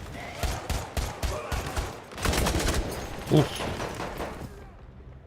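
SMG 0818 submachine gun bursts in Battlefield 6 multiplayer, several sharp rapid volleys in quick succession followed by a longer rattling spray, with a brief spoken exclamation partway through.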